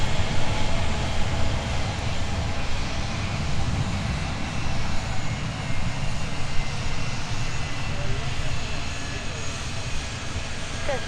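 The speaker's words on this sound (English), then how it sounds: "Delta 2929, plus heading 140, runway 17, clear for takeoff" A Delta jet takes off at Minneapolis–St. Paul airport, its engines producing a steady, broadband roar that holds constant from a moderate distance, with radio voices faintly in the background.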